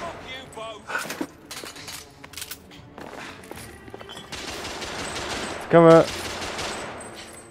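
Rapid gunfire bursts from the steampunk Victorian shooter The Order: 1886, set in London, crackle through a busy firefight, with one louder blast near the end, while voices speak over the shooting.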